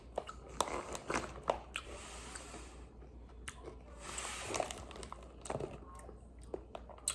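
Crunchy Buc-ee's snack, a hard syrup-flavored nugget, being bitten and chewed up close, with a series of sharp crunches and quieter chewing between them.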